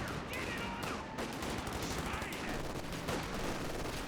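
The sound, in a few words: Grenadier rifle fire from video game Company of Heroes 2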